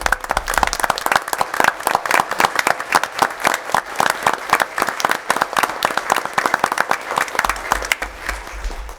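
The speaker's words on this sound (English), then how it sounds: "Let's give them a round of applause." Audience applauds students at a school board meeting in Owatonna, with sustained, dense clapping from a roomful of people lasting several seconds before tapering off.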